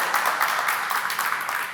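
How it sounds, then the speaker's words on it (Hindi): An audience claps and applauds at a live comedy show event, a dense, steady wash of many hands that is fairly close and stays at an even level throughout. "एक बार आप सबकी जोरदार तालियां चाहेंगे इस ब्रांड खातर।"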